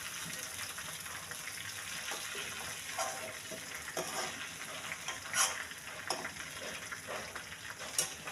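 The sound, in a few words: chicken frying in oil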